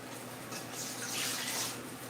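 Water is drawn out of a homemade indoor hydroponic container, a steady close rush and trickle that swells slightly midway and continues for about two seconds without talking.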